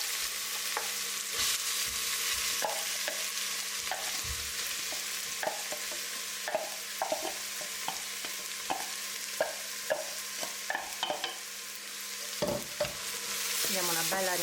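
Chopped soffritto vegetables for a Bolognese ragù sizzle steadily in hot oil, with a spoon scraping and stirring in irregular clicks and knocks throughout, close and fairly loud, with no talking.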